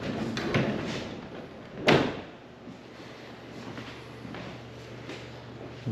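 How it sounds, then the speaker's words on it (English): A house door bumps shut with one sharp thud near the two-second mark in an old 1880s home, followed by quiet room tone and faint shuffling. "Did you close this door or did it close on its own?"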